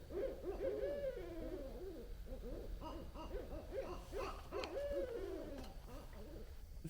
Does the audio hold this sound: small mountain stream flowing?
no